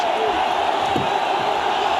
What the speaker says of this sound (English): The crowd absolutely baying for this fight to finish.